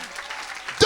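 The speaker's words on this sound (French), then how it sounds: "Donnez une grande acclamation à Jésus, le roi des rois, le Seigneur des seigneurs, qui mérite la gloire" Applause and cheering from a church congregation during a worship service, a broad wash of clapping that swells into a louder burst near the end.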